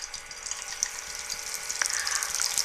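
Curry leaves with mustard seeds and urad dal sizzle in hot oil for hotel-style aloo curry, a steady close hiss with scattered pops and crackles, no voices.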